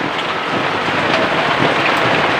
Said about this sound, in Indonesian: Di luar agak hujan, jadi mohon maaf, mungkin videonya suaranya agak sedikit terganggu, yaitu suara hujan